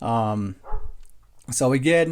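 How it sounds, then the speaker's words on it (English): A dog barks twice in a short low burst between stretches of a man's speech, heard close but briefly in a home setting. "Excuse my dog."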